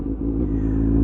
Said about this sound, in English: the sound of the engine going through the gears